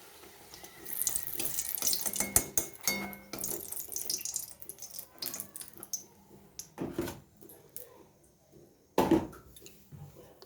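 Pea kachori sizzle and crackle in hot frying oil, the hiss surging in irregular bursts with quieter gaps between them, close by and moderately loud.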